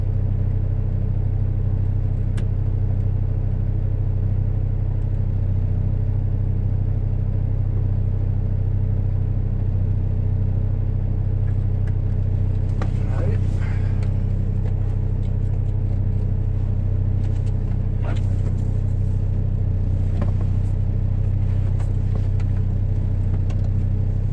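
A boosted Acura Integra on the road, its engine giving a steady, heavy low rumble from inside the car that holds throughout, with a few faint clicks and knocks on top and no talking.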